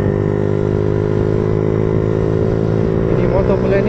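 A Yamaha Lagenda 115fi motorcycle engine drones steadily at close range, a constant low rumble while riding, with a voice speaking over it toward the end.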